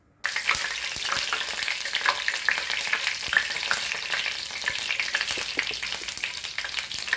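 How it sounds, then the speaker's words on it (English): Curry leaves frying in hot oil while making Goan raw banana chips, a steady dense sizzle and crackle running continuously at close range with small spits and pops, no voices. "Now I will fry some curry leaves, because curry leaves flavor always goes nice."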